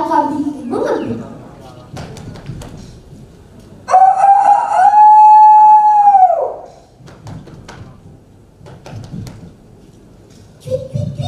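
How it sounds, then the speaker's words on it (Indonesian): Jungle fowl rooster crowing once in a long, loud, drawn-out call with a rising then level tone, standing out clearly in the middle of quieter background voices and rustling. "suara ayam hutan berkokok"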